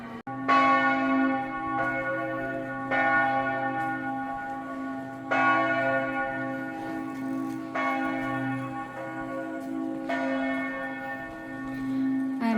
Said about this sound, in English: the wonderful church bells are accompanying my walk